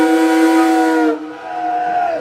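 Steam whistle of the steamboat Minne-Ha-Ha cruising Lake George, New York: one loud, chord-like blast that breaks briefly and then sounds a second, softer held tone, heard alone and close by.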